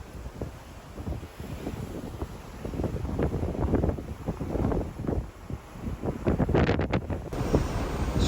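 Strong wind buffets an outdoor microphone in Hanmer Springs, New Zealand, a steady loud rumble with gusty surges throughout and a harsher burst near the end, with no voices.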